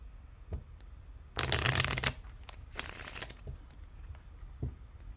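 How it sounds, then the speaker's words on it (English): Two quick bursts of cards being riffle-shuffled, crisp flapping rattles close by, separated by a brief pause with light handling noises around them. "Let me get another shuffle on these"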